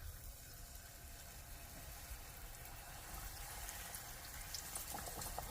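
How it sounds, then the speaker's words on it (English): Battered frozen chicken patty frying in hot oil, a steady, dense sizzling hiss that continues without pause and gets slightly louder toward the end, with no voices. "I'm going to let this fry on each side for about somewhere between 2 to 3 minutes"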